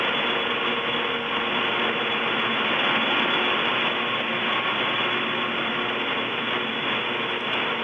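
Cable tram traction machinery roars continuously inside an engine house, a steady dense mechanical drone with faint rhythmic clanking, loud and unbroken throughout.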